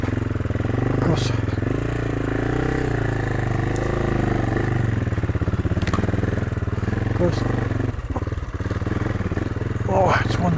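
An Italian enduro motorcycle engine runs close up, a loud steady thrum that rises and falls through several revs, with a rider's voice briefly heard over it.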